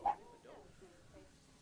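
A dog barks once, loud and short, inside the Planet Zoo video game, built as a Swiss mountain zoo, followed by a few softer whimpering yips.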